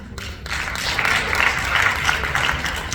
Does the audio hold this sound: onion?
no